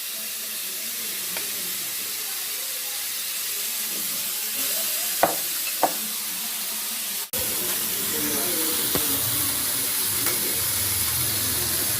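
Chicken malai boti cooks in a pan over low heat, giving a steady, soft, close sizzle and hiss with a couple of brief clicks partway through.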